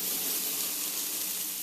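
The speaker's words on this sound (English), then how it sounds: "and let that grill on the skillet" Salmon fillet grilling on an oiled skillet over lowered heat, a soft continuous hiss and sizzle heard close and alone.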